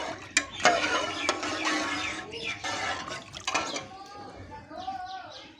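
Water splashes and gurgles into a pot of rice being boiled, with uneven pours and bubbling movements over several seconds.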